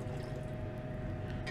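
Liquid poured into a gold mixture in a beaker, a short close trickling and dripping splash lasting barely a moment, with no talking.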